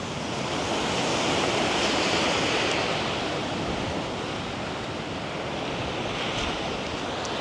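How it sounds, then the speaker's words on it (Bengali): Sea waves wash up near the rooms at Mermaid Beach Resort, making a steady, loud, broadband roar of surf mixed with wind that runs unbroken for the whole stretch, with no voices. "দেখুন কী অবস্থা এখন সমুদ্রের।"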